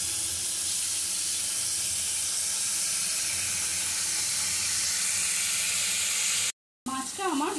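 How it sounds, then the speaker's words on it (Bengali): Fish pieces fry in hot oil in a pan as they are turned over, a continuous close sizzle and hiss that cuts out briefly near the end before a voice starts speaking. "এবার মাছগুলো আমি একটু উল্টে নিচ্ছি।"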